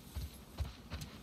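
A horse's hooves clip-clop in a few slow, soft steps in the video game The Last of Us Part II, faint and close against a quiet outdoor background.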